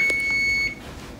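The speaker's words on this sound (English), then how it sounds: "the oven is beeping" Kitchen oven timer beeping while meatloaf, mashed potatoes and green beans cook, a steady high electronic tone held for well over half a second and then cutting off, loud and close with no talking.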